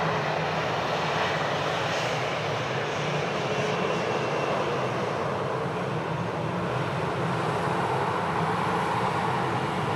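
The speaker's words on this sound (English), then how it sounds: "The A320 now, Alpha 5 Bravo, just rolling through there on the Bravo 9 onto taxiway Bravo" An Airbus A320 taxis on a taxiway at Sydney Airport. Its engines give a steady, loud jet roar that holds constant for the whole stretch with no voices.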